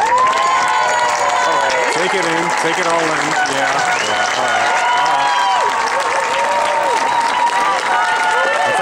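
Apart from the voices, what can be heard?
audience applause and cheering for graduates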